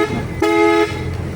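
A truck's horn gives one loud, steady honk of about half a second, held on a clear tone close by, with vehicle noise running before and after it.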